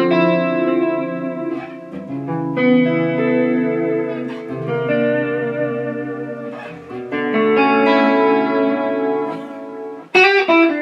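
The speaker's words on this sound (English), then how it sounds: "so that's a short echo" A Boss Katana amp's short echo effect, set to 121 milliseconds and switched from an Airstep pedal, thickens sustained distorted guitar chords with a tight slapback repeat, loud and alone, ending in a brief burst of strummed strings.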